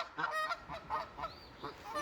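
A goose guarding a nest of six eggs beside a river honks repeatedly in close, loud, uneven bursts, each call separated by brief gaps, with no voices present.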